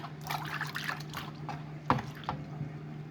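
Water trickling and splashing as a gold prospecting pan of paydirt is rinsed out, soft and close with a steady low hum underneath and a brief sharper splash near the middle.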